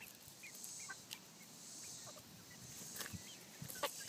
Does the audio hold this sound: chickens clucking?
yes